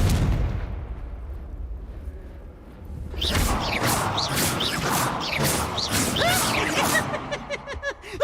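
A fiery Confringo spell bursts in the Hogwarts Legacy video game, with a loud explosive blast after a quieter lead-in, followed by crackling, whooshing debris and scattered pops that fade near the end.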